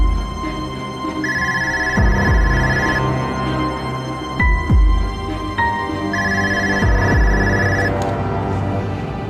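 A telephone rings in two loud electronic bursts indoors, separated by a pause, with thumps and movement in between and no talk.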